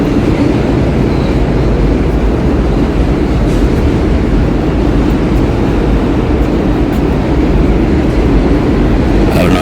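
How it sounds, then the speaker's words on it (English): A loud, continuous low roar of New York subway trains nearing Queens Plaza, heavy rumbling with rattling metallic texture sustained throughout without talk. "roar of the subway trains means that we're approaching Queen's Plaza."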